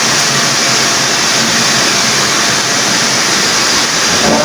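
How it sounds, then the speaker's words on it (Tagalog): Heavy rain pours down in a dense, loud, unbroken roar that fills the whole stretch without any voices. "ang lakas ng ulan"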